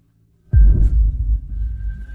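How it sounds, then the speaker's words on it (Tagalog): A deep, throbbing heartbeat sound effect, racing fast, swells in suddenly as a loud low pulsing rumble with a faint steady tone riding above it, no voices. "Mabilis na mabilis ang tibok."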